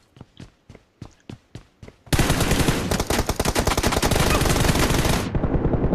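Gunfire in a mobile shooter's team deathmatch: about eight separate sharp shots spaced evenly, then a dense sustained burst of automatic fire lasting roughly three seconds, loud and close, trailing off at the end.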